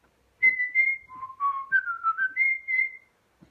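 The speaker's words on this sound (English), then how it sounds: "he began to whistle a pirate tune." A single person whistles a short, jaunty pirate tune, clear and close, with notes hopping up and down before trailing off.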